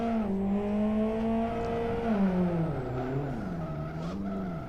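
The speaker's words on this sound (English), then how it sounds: "Do one more lap of drifting." Drifting car in the Live for Speed racing simulator, its engine droning loud and continuous with rising and falling pitch as the revs shift, a faint tire squeal running beneath.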